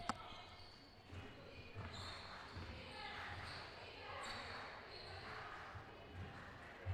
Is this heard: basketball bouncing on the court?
yes